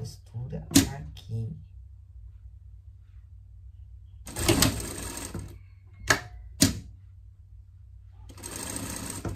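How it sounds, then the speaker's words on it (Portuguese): A sewing machine stitches a seam on a pet bag in several short bursts of rapid whirring, close and clear, separated by pauses with light handling noises. "vamos passar a costura aqui."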